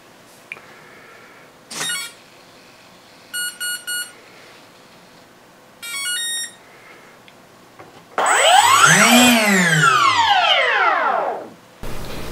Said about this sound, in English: Listen to the sound made by an ESC with three lithium batteries.